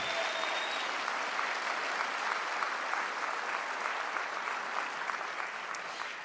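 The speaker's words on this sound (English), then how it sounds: "A round of applause for James Sewell Ballet" An audience at a James Sewell Ballet farewell performance bursts into sustained applause, dense steady clapping from a large crowd filling the hall, tapering slightly at the end.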